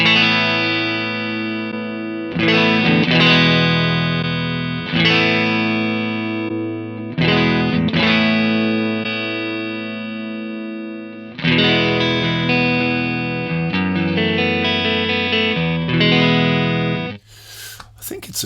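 Clean electric guitar through an amp, chords ringing out in several phrases with short gaps between them, full and warm.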